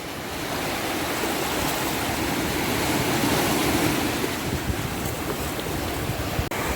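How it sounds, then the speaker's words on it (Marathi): Ocean waves wash onto the shore at Kunkeshwar on the Konkan coast, a continuous roaring surf with wind buffeting the microphone, steady and fairly loud with no voices. "हा येणारा लाटांचा आवाज बघा पाणी बघा जसं येते तसं परत मागेही जाते"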